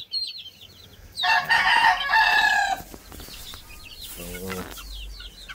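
A white Kelso rooster, about two months old, gives one loud crow among a few softer clucks from nearby chickens.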